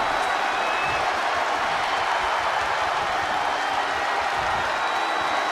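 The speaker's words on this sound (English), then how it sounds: "when you can't hear yourself think because the crowd's so loud" A loud, dense wrestling arena crowd roars steadily throughout, a continuous wall of cheering and noise with no pauses at a WWE event in Portugal.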